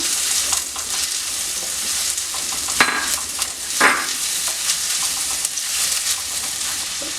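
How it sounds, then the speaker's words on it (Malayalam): Chopped onion sautéing in oil in a pan for a potato-prawn stir-fry, giving a steady close sizzle with stirring scrapes and a couple of brighter bursts, no talking. "സവോള ഒന്ന് ചെറുതായിട്ട് വഴറ്റിയെടുക്കണം"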